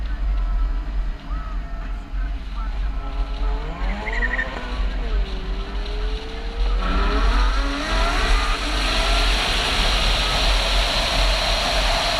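A 2017 Ferrari F12 Berlinetta's V12 engine accelerates hard, its loud, close roar climbing steadily in pitch through the gears, with road and wind noise rising behind it.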